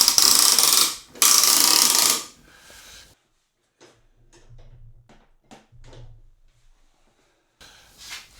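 A ratchet tightens bolts while a Ryobi 22-inch Whisper Series snow blower is assembled, two loud bursts of rapid clicking followed by quieter intermittent ratcheting strokes and pauses.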